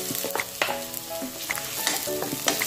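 Garlic and alamang shrimp paste fry in a pan with a steady close sizzle, broken by scraping stirs and small crackling pops, with no voices.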